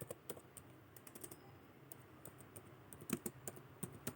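Rapid, light key clicks from a computer keyboard while entering Python code, with irregular bursts of close, quiet taps and brief pauses over faint room noise.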